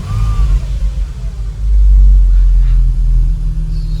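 A Porsche 997.2 sports car engine idles with its sport exhaust valve switched off, a deep, steady rumble, swelling briefly louder midway before settling back to a low drone.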